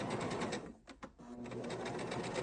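A sewing machine stitches fabric while making reusable coffee filters, running in a steady close whir, pausing briefly for the reverse stitch, then resuming.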